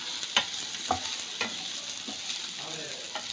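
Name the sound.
sautéing ingredients in a pan until brown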